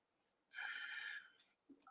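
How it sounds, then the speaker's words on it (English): A single short, breathy sniff through the nose, close and fairly quiet, followed by a brief faint rustle. "Somebody has the sniffles."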